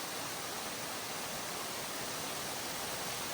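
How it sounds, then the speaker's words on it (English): Gillis Lake Falls on Cape Breton Island, Nova Scotia, in winter, a steady, full roar of falling water that fills the whole clip without a break. "the sound of the waterfall is just so peaceful"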